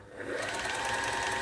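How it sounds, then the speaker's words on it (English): A Janome Combi two-in-one sewing machine and serger runs in one steady, fast whirring burst that starts almost at once and stays even and close, with no talking. "sewing machine"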